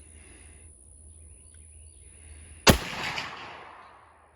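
A single loud, close shot from a 45-70 Government rifle firing a 300 grain Winchester Super X jacketed round outdoors, a sharp crack after a quiet wait, followed by a rolling echo that fades over about a second.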